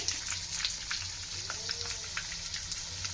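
Vegetable pieces fry in a pan of hot oil over a medium-low flame, with a soft, continuous sizzle and scattered light crackles close by.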